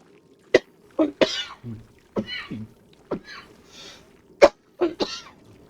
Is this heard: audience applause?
no